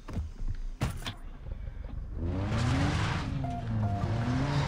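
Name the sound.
car driving in video game Far Cry 3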